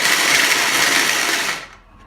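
A food processor pulses paleo pumpkin pie bar ingredients in a loud, steady whirring burst lasting about a second and a half, then cuts off and winds down quickly.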